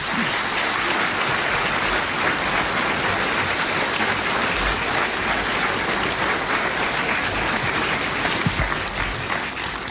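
Sustained audience applause at the National Press Club greets Michael Dell as he takes the stage, a steady dense wash of clapping that holds evenly loud throughout with no voices over it.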